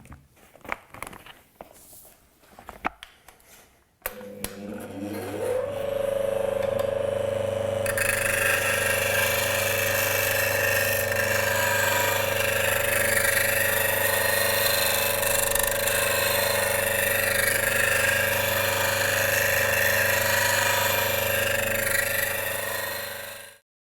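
Steady grinding whir of a Tormek wet-stone sharpening wheel working a woodturning tool edge, a sustained loud hum with tonal bands and bright hiss, preceded by a few seconds of clicks and handling noises before the wheel settles in.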